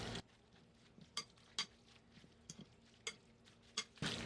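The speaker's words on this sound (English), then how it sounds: "Get that all stirred in with that pasta." Ground turkey pasta sauce gets stirred into pasta in a pot, with a few soft scrapes and clinks of the spoon against the side between quiet pauses.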